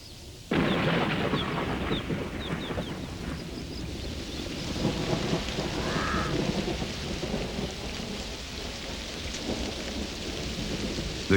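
A thunderstorm with steady rain on the savanna during the dry season, a continuous loud wash of rainfall with rolling thunder rumbles building and fading throughout, no voices.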